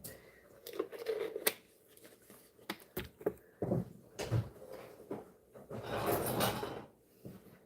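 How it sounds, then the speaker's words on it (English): Dishes being loaded into a dishwasher: a scattered run of clinks, knocks and clattering bumps, fairly close, with a few louder clunks and a longer rattling stretch near the end, no talking. "Pop some of these dishes in the dishwasher too."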